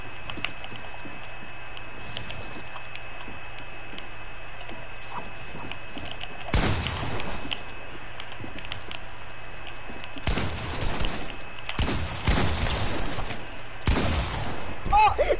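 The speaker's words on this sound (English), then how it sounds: "I shot my shotgun, I swear to God" Loud shotgun blasts in a shooter video game, several separate bursts spaced apart over a steady background hum, with faint game ambience between shots.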